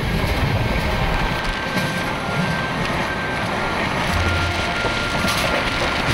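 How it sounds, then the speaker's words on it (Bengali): The Howrah–Bikaner train runs through the Thar desert with a loud, unbroken rumble and rattle, a dense wash of wheel and wind noise that holds steady throughout. "আর আমাদের ট্রেন মরুভূমির বুক চিরে এখন ছুটে চলেছে বিকানেরের উদ্দেশ্যে।"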